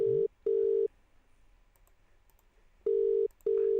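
An outgoing telephone call rings out in a steady repeating ring-back pattern, two close pairs of tones separated by a pause, clear and loud on the line.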